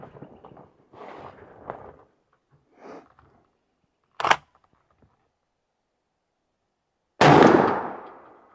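Shotgun firing a Winchester Longbeard Tungsten number 9 turkey load through a 663 five-step choke: one sharp, loud blast rings out late and decays quickly outdoors, preceded by faint clicks and brief quiet handling noises.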